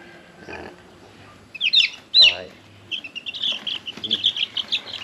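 Mini Cochin chickens in a pen give a few sharp squawks followed by a run of rhythmic clucking and chirping, fairly close, with low background voices.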